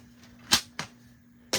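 Paper being cut for a handmade card, heard as three crisp, close snips spaced irregularly against a quiet room.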